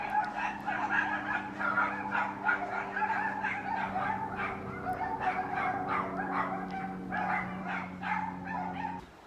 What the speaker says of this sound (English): Okay, I'm coming inside because the dogs are screaming.